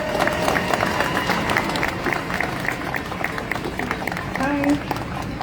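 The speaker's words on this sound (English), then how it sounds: "Big round of applause, everybody." Crowd applause and cheering at an outdoor Free Palestine rally in Melbourne, a steady wash of clapping with scattered voices and shouts mixed in, continuous and moderately loud.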